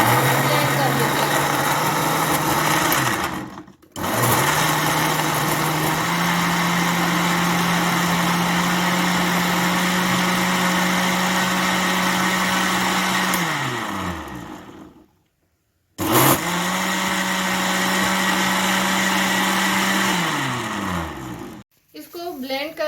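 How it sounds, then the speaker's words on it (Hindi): A kitchen blender whirs loudly as it blends an apple and lemon drink, running in long steady stretches with its pitch rising and dropping, stopping briefly twice before starting again. "इसको ब्लेंड कर लिया है।"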